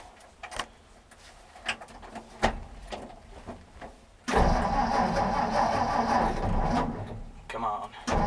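A 1960 Ford 223 six-cylinder engine is cranked and catches, roaring into a loud steady run after several seconds of clicks and handling noise, with a sticky choke being worked.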